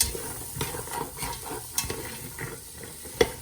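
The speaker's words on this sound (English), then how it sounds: "Okay, now I'm adding 8 ounces of Baby Bella sliced mushrooms. Stir that around a little bit." Sliced Baby Bella mushrooms stirred in a pot, a spoon clacking and scraping in quick irregular strokes over a light sizzle, close and quiet.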